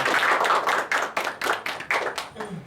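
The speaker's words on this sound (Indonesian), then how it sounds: "Kasih aplaus dulu." A small group of students claps for a classmate's presentation in a classroom, a brief burst of fairly close, uneven hand claps that lasts under three seconds with no talking.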